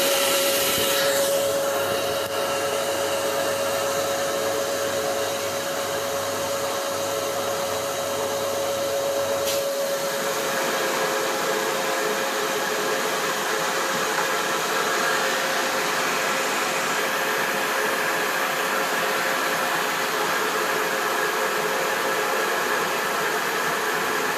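A steady, loud rice mill hum and whirring drone runs without a break, with a faint tonal whine that fades partway through.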